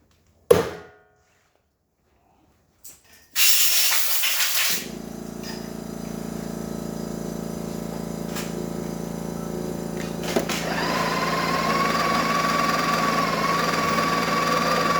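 A Breville Barista Express espresso machine, just back from a full tune-up, pulls a shot: a loud hissing burst, then a steady close-up pump hum and vibration that runs on without a break.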